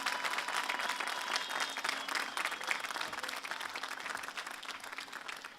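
Loud, continuous applause from a rally crowd at a GROM party event in Gostivar, dense clapping holding steady without a break.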